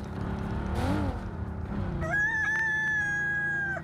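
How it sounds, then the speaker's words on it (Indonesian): Rooster crowing inside PUBG Mobile, a clear drawn-out cock-a-doodle-doo rising over the steady hum of a car engine in the game. "Aduh, ada suara ayam lagi."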